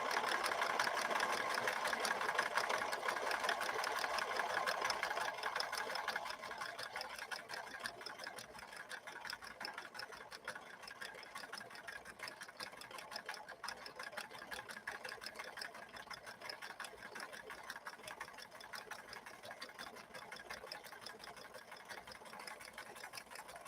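A 1964 Montgomery Ward sewing machine stitches a stretch pattern in one long continuous run, its motor hum and rapid needle chatter steady and fairly quiet, slightly louder at the start.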